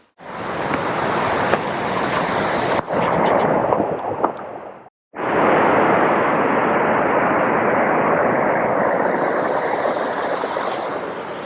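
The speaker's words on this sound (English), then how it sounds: "This is the stream that becomes the waterfall we were at just a few moments ago." A stream flows toward a waterfall near a lake in Dehradun, making a loud, steady rush of water. The sound breaks off briefly around the middle, then continues with no talking.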